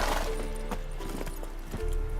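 Horse hooves clip-clop in the Witcher 3 video game, a run of evenly spaced hoof strikes at a steady walking pace, close and moderately loud over a low ambient hum.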